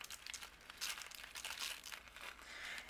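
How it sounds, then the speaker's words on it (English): A plastic bag of shaker card sequins is opened and poured out, giving a continuous close crinkling with sharp crackles and a light rattling patter throughout. "You just open the bag like this,"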